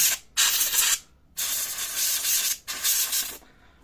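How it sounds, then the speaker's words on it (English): Three sharp bursts of compressed air blast dust out of the CPU cooling fan of a Toshiba Tecra Z40 laptop. Each burst is a loud, close hiss about a second long, with short silent gaps between them and no voices. "I use compressed air for blowing out everything from inside the fan"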